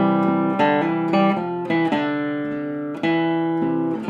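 Battle Hymn of the Republic chords and rhythm played with an altered melody on a keyboard-like instrument, a short, loud, close phrase of sustained chords with no voices.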